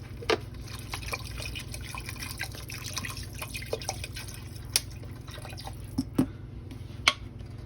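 Bottled water, about a 16-ounce bottle, poured into a pot of Puerto Rican carne guisada beef stew. Soft splashes and scattered drips sound over a low steady hum.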